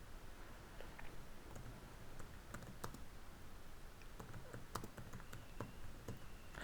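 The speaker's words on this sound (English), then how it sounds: "So I can type in my notes to edit my template." Quiet, steady typing on a computer keyboard while entering notes into a template, with sparse, irregular key clicks and a few louder taps over a soft background hum.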